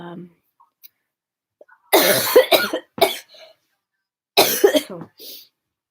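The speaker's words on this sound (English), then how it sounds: "This cough is like annoying. It has this weird kind of whistly sound to it now." Several harsh, wheezy coughs with a whistling quality come in bursts with pauses between, close up, one round early and another a few seconds later, with a raspy, airy edge.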